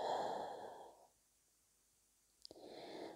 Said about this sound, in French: On détend encore plus les épaules et expire par la bouche.